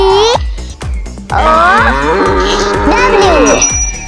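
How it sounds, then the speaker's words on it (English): A cow moos several times in long, drawn-out calls, loud and close, with a steady low rhythmic thump running underneath. "cow,"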